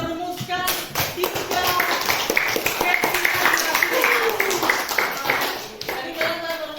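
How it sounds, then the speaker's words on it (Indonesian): A school class claps hands together, a cluster of sharp claps that swells into a sustained round, with children's voices and talk mixed in beneath and around the clapping. "Tepuk tangan untuk kalian semua yang telah merumuskan 3"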